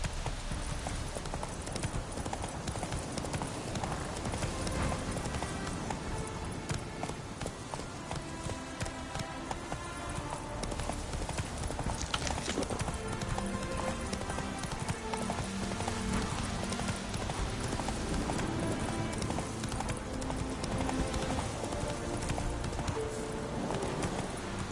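A horse gallops across open ground in the video game Witcher 3, its hooves drumming in a fast, continuous clip-clop under a dense layer of game sound and music that stays loud throughout.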